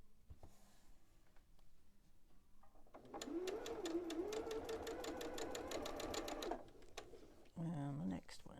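Sewing machine chain piecing fabric for a quilted springtime table runner, a quiet run of rapid, evenly spaced stitching lasting a few seconds, then a short whirring burst, with a voice talking at times.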